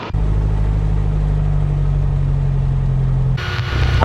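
A Piper Cherokee light aircraft engine drones loudly and steadily from close by while taxiing, a low constant hum throughout that shifts briefly near the end.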